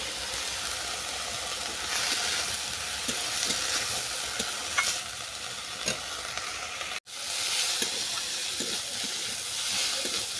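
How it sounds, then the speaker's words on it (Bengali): Moringa flowers fry in a pan with salt and turmeric, giving a steady close sizzle with frequent stirring scrapes and a brief break partway through. "আর সজনা ফুল আরও পাঁচ মিনিট ভেজে নেওয়ার পর আমি এটাকে নামিয়ে নেবো"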